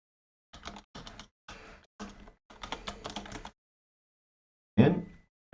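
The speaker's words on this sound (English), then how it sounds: "I'm going to be typing in days since purchased." Typing on a computer keyboard while entering an Excel formula: five quick bursts of clicky keystrokes separated by short pauses, followed by a single louder thump near the end, with no talk.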